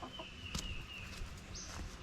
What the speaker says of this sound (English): We got a rooster, Mrs. Doubtfire